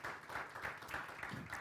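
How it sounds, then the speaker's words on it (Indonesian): Church congregation applauding during a Sunday service, a steady wash of clapping throughout with a few faint voices mixed in. "Tepuk tangan buat kemuliaan nama Tuhan."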